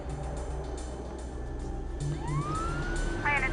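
Emergency siren wailing outside, a rising and sweeping tone over steady background rumble, growing a bit louder toward the end, with no one speaking.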